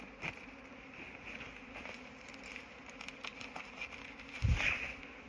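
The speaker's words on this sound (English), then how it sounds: "You want to see a lot of bees?" Honey bees swarming around beekeeping hives, a steady low buzzing hum that stays faint and continuous with brief louder swells as insects pass close.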